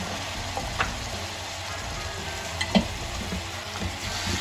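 Chopped tomatoes sizzle steadily in a pan while being mixed, with occasional soft scrapes and a light clink of a spoon against the metal, close and even throughout with no voices.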